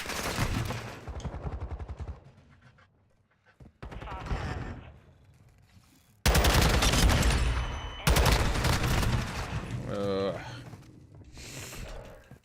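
Bursts of automatic gunfire from an online shooter match, loud rapid volleys filling the second half and mixing with quieter stretches of game noise, with players talking over the action.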